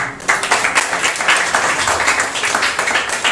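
A church congregation claps during a sermon, with a close, fairly loud burst of rhythmic applause that holds steady throughout.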